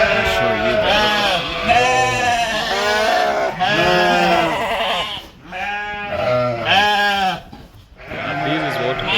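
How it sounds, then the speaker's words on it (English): Dorper sheep bleat repeatedly in loud, overlapping calls at close range on a large African dairy farm, with a person talking over the flock. "These are the doper sheep."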